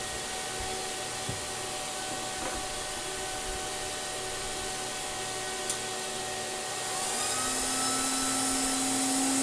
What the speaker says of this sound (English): this power supply sounds like a hairdryer